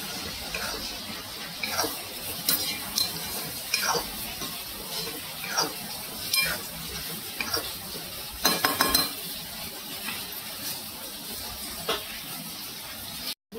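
Spices for a prawn curry fry in hot oil under a soft, continuous sizzle while a spoon stirs and scrapes the pan in repeated, irregular strokes, with a few louder clattering scrapes.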